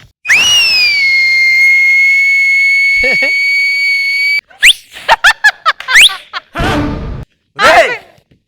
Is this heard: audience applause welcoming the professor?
no